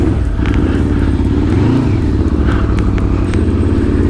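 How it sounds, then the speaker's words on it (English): A Yamaha VMAX motorcycle fitted with an aftermarket exhaust accelerates, its loud, close engine roar rising in pitch with a brief throttle swell midway. "Jerry's on the heroic Harley and I'm on the voluptuous VMAX."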